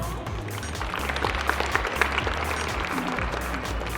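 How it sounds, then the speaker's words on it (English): Applause at a school assembly as the house in-charge comes forward, continuous clapping at moderate distance with music playing underneath. "A big round of applause."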